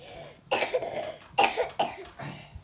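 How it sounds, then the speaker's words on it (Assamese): A girl coughs three times in quick separate bursts, close and fairly loud, each rough hack trailing off before the next. "কাহ আহিছে নেকি তোমাৰ?"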